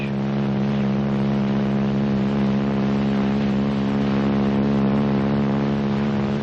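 The engine of a Navy training aircraft drones steadily as the throttle is eased on after recovering from an inverted spin, a loud, even, continuous hum with no talk.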